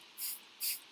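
Two quick spritzes of water from a spray bottle, quiet and close, about half a second apart.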